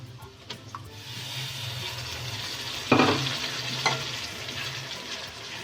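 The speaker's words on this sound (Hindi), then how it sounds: "अब हम इसको अच्छे से भूनेंगे।" Fish curry masala with tomatoes and crushed red chilli sizzles steadily in a pan, broken by a couple of sharp scraping stirs partway through; close and moderately loud, with no talking.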